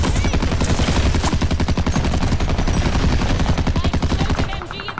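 Sustained automatic machine gun fire in the shooter game Call of Duty Vanguard, a loud, rapid, unbroken rattle of shots lasting nearly the whole clip before tapering slightly at the end.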